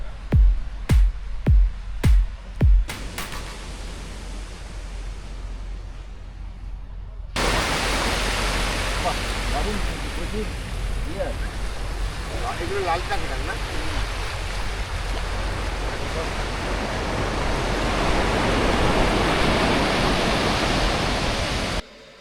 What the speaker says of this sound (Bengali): দিগন্ত বিস্তৃত সমুদ্র।